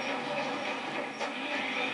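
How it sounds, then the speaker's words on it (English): A train rushing past in the video game Sonic Adventure 2, a steady, loud rumbling roar that fills the whole stretch without pause. "watch out for that train"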